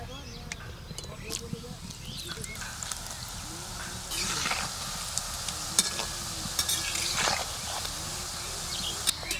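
Nimki dough sizzles steadily in hot oil in a Bengali home kitchen, a soft crackling hiss with occasional louder pops while someone talks over it.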